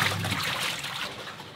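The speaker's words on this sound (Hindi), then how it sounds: "कपड़े भी साथ साथ में धो रही हूँ" Clothes being washed by hand with water, a soft steady trickle and splashing running throughout, fairly close and continuous with no talk.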